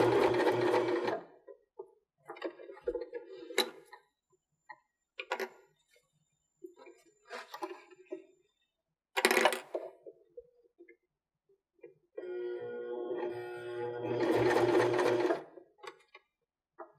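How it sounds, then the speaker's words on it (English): A sewing machine runs a basting stitch along the edge of the presser foot on a cork-trimmed purse, sounding as several short bursts of rapid mechanical whirring separated by pauses, with longer runs near the end. "And then we'll do the basting stitch with about the edge of the foot again."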